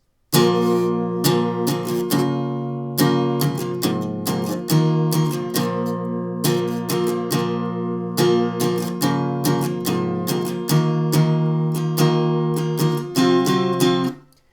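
Close, bright acoustic guitar plays a verse, with steady strummed chords over shifting bass notes, held to an even rhythm for about fourteen seconds before stopping abruptly.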